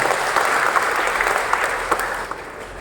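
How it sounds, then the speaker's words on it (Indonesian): Church congregation applauds at a renovation thanks ceremony for the Getsemani building, a steady wash of clapping from many hands in a hall, even and sustained with small bursts, no voices over it. "Kita tepuk tangan untuk 30 rakyat."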